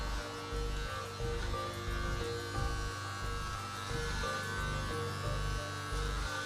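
Electric hair clippers buzz steadily while cutting hair, the motor's hum dipping and rising in a regular rhythm as the clippers pass through the hair up the sides of the head.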